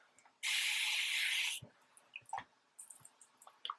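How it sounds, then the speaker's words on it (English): A single sustained hiss from a spray bottle misting curly hair, lasting about a second, close and fairly loud, followed by soft handling sounds and faint rustles. "So we spray it just like normal"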